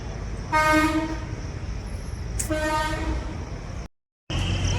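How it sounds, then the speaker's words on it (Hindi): Metro train on an overhead bridge near Muradnagar sounds two drawn-out horn blasts over a constant traffic-like rumble, followed by a brief gap of silence. "ये ऊपर मेट्रो का पुल है दोस्तों।"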